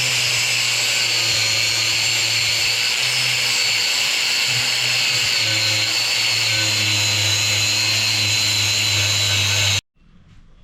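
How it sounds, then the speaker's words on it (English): A power grinder works down TIG welds on a steel camper frame, a loud, steady high-pitched whine with a droning hum underneath that runs nearly ten seconds before stopping abruptly. "I ground everything down"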